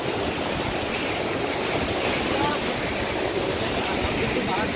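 White-water rapids on the Alaknanda river churn and rush in a loud, constant roar with wind noise buffeting the microphone during a rafting trip.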